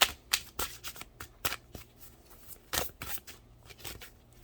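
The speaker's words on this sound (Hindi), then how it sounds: "मैंने दोबारा शफल किया" Tarot cards are shuffled by hand in a string of sharp, close riffling bursts separated by short pauses, with a low steady hum underneath and no talking.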